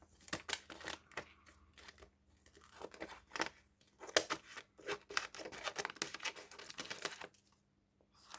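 Scissors trimming paper for a tall, skinny junk journal, with blunt blades snipping in short irregular bursts of crisp cuts and paper rustle, close and fairly quiet, with no talking.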